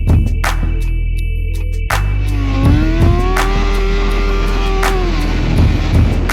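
A motorcycle drifts sideways on a race track at a drift meet, its engine revving hard and rising in pitch through repeated sharp bursts, loud and close.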